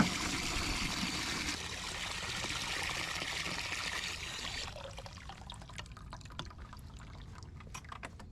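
Water poured out for farm animals at morning feeding, a steady splashing pour that runs loud for about five seconds, then tapers off into scattered drips and trickles.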